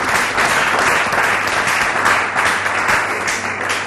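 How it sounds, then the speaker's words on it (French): An audience applauds a comedy trio introduced on stage at a comedy show, a dense, steady wash of clapping that stays loud and unbroken throughout. "Trio Lobby, on applaudit très fort pour les trio Lobby"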